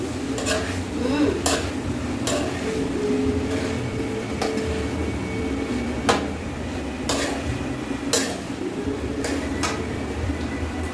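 Pork innards are stirred in a sizzling pan, with a spoon scraping and clacking against the metal at irregular intervals over a steady frying hiss.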